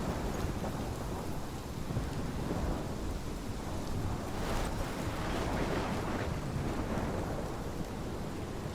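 A thunderstorm in the video game Life is Strange: dense, heavy rain roars without a break, with a low rumble of thunder swelling underneath around the middle, loud and close and free of any voices.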